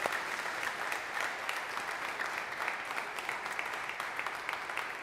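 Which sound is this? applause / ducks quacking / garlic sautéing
applause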